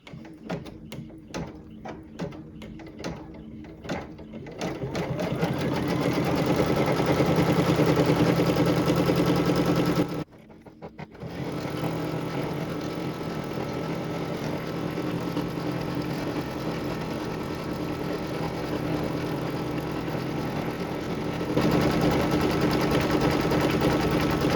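An embroidery machine loaded with off-white thread runs a tack-down pass on a hat, its steady fast stitching whir close and continuous. The run is broken by a brief stop partway through.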